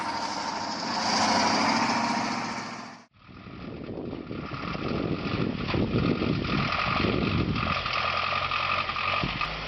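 An off-road tractor truck, a Kamaz, Ural or Tatra type, drives into a deep river, its engine running steadily and loud with broadband churning and splashing water, after a brief cut to quieter roar.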